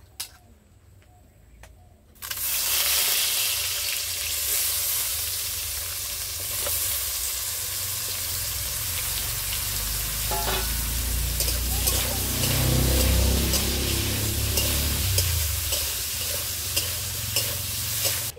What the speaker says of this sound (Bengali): তেল গরম হয়ে গেছে, এবার বেগুন ভেজে নেব।